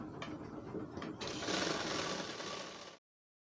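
A sewing machine rattles through a short run of stitching on a kurta side panel, a close mechanical whir lasting about three seconds before stopping abruptly.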